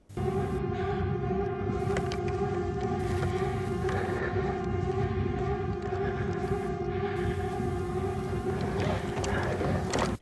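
A wailing alarm siren sounds inside the spaceship Nostromo in the film Alien, a steady, loud tone that runs throughout alongside a dense mechanical drone and rumbling ship noise.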